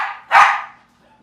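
A dog lets out a single sharp bark close by, followed by a short fading whine, loud against a quiet background.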